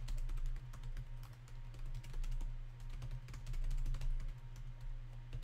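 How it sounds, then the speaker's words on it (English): Rapid clicking of a computer keyboard during a Roblox game session, a steady dense patter of keystrokes heard close and fairly quiet over a low constant hum. "No, I'm typing."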